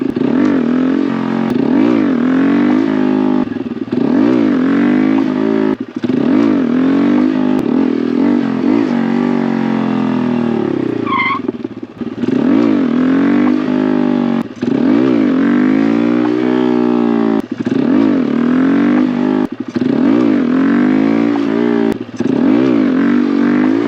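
A Honda Grom motorcycle revving hard during wheelie attempts, its small engine screaming up through repeated throttle surges with brief dips between them, loud and close throughout.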